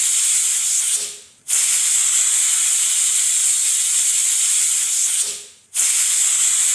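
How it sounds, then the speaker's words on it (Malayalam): A pressure cooker cooking tomato rice with spices vents steam in a loud, continuous hissing jet, cut off briefly twice as the whistle weight drops and lifts again, close by with no talk. "കുക്കർ അടച്ചു വെച്ച് നാല് വിസിൽ കേൾക്കുന്നത് വരെ വേവിച്ചെടുക്കാം"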